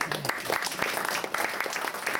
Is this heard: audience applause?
yes